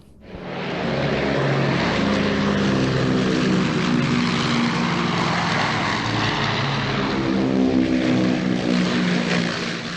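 Turkish Aeronautical Association firefighting planes diving overhead, propeller engines swelling in within the first second into a loud sustained drone with shifting pitch as they pass close.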